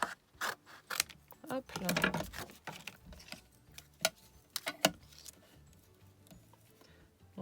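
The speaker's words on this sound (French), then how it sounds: "Donc là, je viens faire ma petite découpe." Scissors snip through paper while a handmade card is made, a run of sharp close clicks and crisp cuts in irregular bursts, with a short spoken interjection among them.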